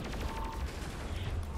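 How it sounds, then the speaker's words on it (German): Dense, rapid gunfire from the video game Saints Row 4 rattles continuously in loud overlapping bursts with a mechanical clatter underneath. "Die knallen mich auch andauernd ab."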